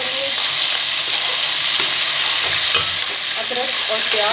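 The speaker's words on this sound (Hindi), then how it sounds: "मैं बहुत जल्दी से आपको दाल का तड़का लगाना दिखाती हूँ।" Onions sizzle and fry steadily in a pan for a dal tadka, with occasional stirring scrapes, loud and close with no talk.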